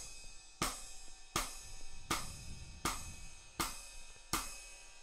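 A drum kit plays a repeating ostinato with a bass drum, seven evenly spaced sharp hits ringing out with cymbal-like wash, close and clear with no voices.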